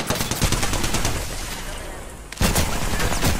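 Rapid bursts of automatic gunfire in the video game Apex Legends, dense and crackling, pausing briefly before resuming at full loudness.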